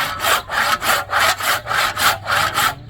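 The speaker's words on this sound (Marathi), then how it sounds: "आता लाकूड कापून टाकू डायरेक्ट" Wood being cut with a hand saw, steady back-and-forth rasping strokes, about ten rhythmic pulls in quick succession, close and clear with no talk.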